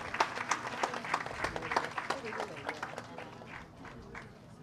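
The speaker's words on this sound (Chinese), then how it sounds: "让我们再以热烈的掌声感谢圣尊慈悲赐受阿达尔玛佛法灌" A large audience at a Buddhist empowerment ceremony at a temple claps warmly in a dense, sustained round of applause that gradually fades.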